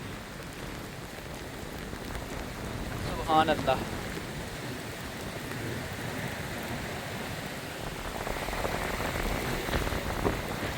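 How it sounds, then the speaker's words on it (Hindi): Heavy rain pours steadily with a dense, hissing patter on surfaces, and a voice speaks briefly under the downpour. "बारिश की देखें रफ्तार"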